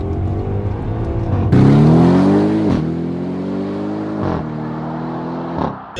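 A 710 hp stage 1 Audi RS6 engine revs hard and accelerates close by, its pitch climbing through gear changes with short dips between pulls, loud and alone.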